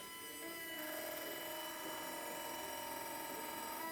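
A powered motor fitted with rare earth magnets spins steadily, giving a continuous high-pitched whine with layered tones that holds close and loud throughout, with no speech.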